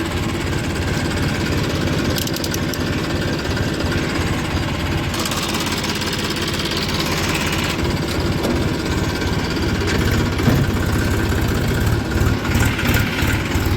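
A vehicle engine runs steadily and loudly up close as the driver shifts into third gear on an early-morning drive, a continuous low rumble with slight changes in pitch and no speech.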